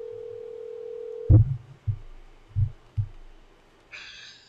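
A telephone tone sounds steadily at first, then stops and gives way to a few soft thumps and a brief high electronic chirp near the end, fairly quiet overall.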